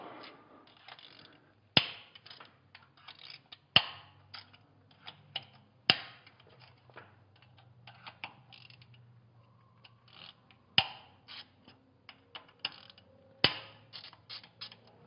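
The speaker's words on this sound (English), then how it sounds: "it's 7/32 Allen, and you just loosen the locking key, just like that" A 7/32 Allen wrench loosens the locking keys on hydraulic roller lifters in an engine, heard as close, quiet metallic clicks and ratcheting ticks with several sharper snaps spaced a few seconds apart.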